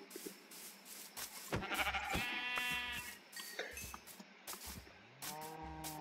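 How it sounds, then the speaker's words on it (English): Several sheep bleat in a survival building game, with wavering calls scattered across the clip among soft footsteps and quiet game sounds. Some bleats are near and others farther off. "Another sheep."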